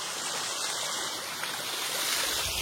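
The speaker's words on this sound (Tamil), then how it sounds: "கீழே ஒரு வாட்டர் ஃபால்ஸ்" Steady broadband rush of a waterfall flowing below a rocky spot in the Yercaud hills, continuous and fairly close, with no voices over it.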